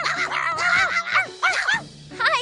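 A cartoon dog from Clifford the Big Red Dog gives several short, loud barks and yips in quick succession over a continuous musical score, with tonal animated vocal sounds overlapping throughout.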